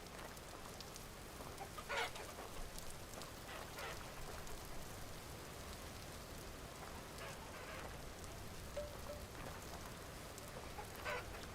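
Chickens cluck faintly in the Vintage Story video game, scattered short clucks over a steady hiss of rain.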